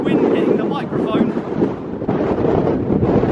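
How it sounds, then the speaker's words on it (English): Wind buffets a microphone on a Scottish mountain hike, loud, rumbling gusts that rise and fall throughout, heavy low-end noise dominating the scene. "You can probably hear the wind hitting the microphone."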